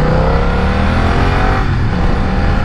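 A BMW F900XR motorcycle engine runs loud and close, a steady throaty drone with rising and falling engine pitch as it revs.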